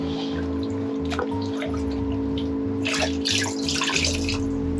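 Water is scooped and poured from a caravan floor flooded by a burst water pipe, close splashing and trickling into a container over a steady low hum, no voices.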